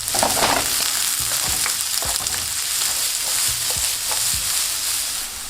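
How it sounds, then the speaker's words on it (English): Onions frying in hot oil on medium heat, a loud close steady sizzle with a crackling burst at the start and periodic stirring knocks throughout, no talking. "In some hot oil, throw in some onions."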